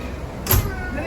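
A safari bus rolls through Bali Safari park, its cabin filled with a steady engine and road rumble and one brief louder thump near the middle.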